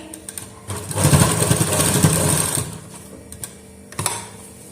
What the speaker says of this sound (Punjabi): ਤੇ ਇੱਥੇ ਸਲਾਈ ਆਪਾਂ ਪੱਕੀ ਲਗਾ ਦਾਂਗੇ